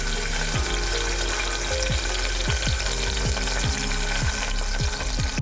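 Thinly sliced onions frying in about five tablespoons of hot oil in a pressure cooker for a restaurant-style mixed vegetable curry, a steady close sizzle with repeated stirring scrapes at a regular pace, no voices.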